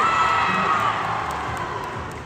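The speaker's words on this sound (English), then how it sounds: "Cheer if we should kick bacon." A crowd of convention-goers cheers and whoops at a VidCon panel for a Minecraft Lifesteal SMP group, a loud sustained roar that slowly tapers off.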